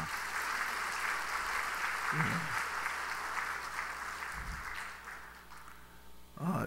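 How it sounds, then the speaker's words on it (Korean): A church congregation at a Sunday evening service claps together, a broad, even wash of applause that holds steady for several seconds, with faint low murmurs underneath and a louder sound at the very end. "우리 박수 한번 하십시다"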